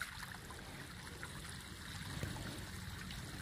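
Water pours steadily into a cattle feed trough on a bull fattening farm, a continuous close trickling and gurgling flow with no talk over it.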